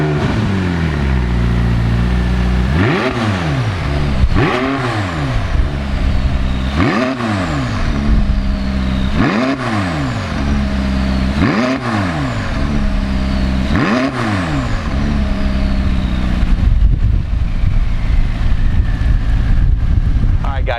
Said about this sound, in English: Let's go and start up this McLaren.